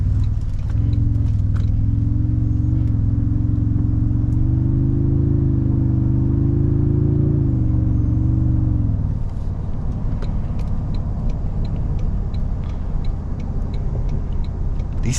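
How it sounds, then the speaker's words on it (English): Inside a 2024 Toyota Tundra TRD Pro pickup, a deep engine rumble swells under acceleration, its pitch rising for several seconds before dropping to a steadier low cruising hum with road noise. "And then the sound of this truck on the inside just can't be beaten."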